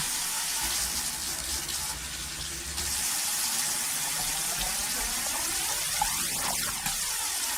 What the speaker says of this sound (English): Okay, washing little dishes